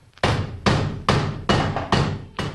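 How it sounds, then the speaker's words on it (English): A rubber hammer drives a bushing into a go-kart sprocket with six solid, dull thuds about half a second apart, each ringing briefly, close and loud, no talking. "I'm using a rubber hammer, as you notice,"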